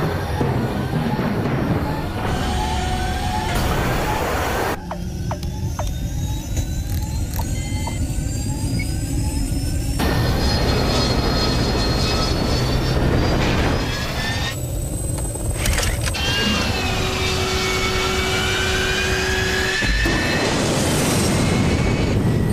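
A cartoon sound effect of VTOL jet aircraft deploying: a long, loud mix of rising whines, rushing roars and mechanical clunks that keeps shifting over twenty seconds.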